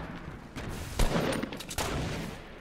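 Gunfire in a shooting video game, with a few heavy shots fired toward the ground at intervals over a steady background, fairly loud and close, no talking.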